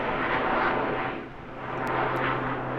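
A propeller aircraft engine drones steadily during aerobatic maneuvers at a seaside airshow, a broad, continuous roar that swells and dips slightly as the plane moves, heard from a distance.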